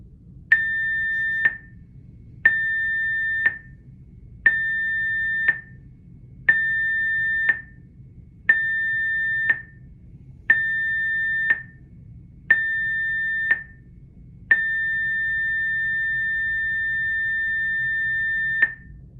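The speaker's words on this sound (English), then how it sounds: "the signal that you just heard was indeed our general emergency alarm signal" A ship's general emergency alarm on the Carnival Venezia sounds seven loud, steady one-second tones in even succession, then one long sustained blast, over a low hum of background noise.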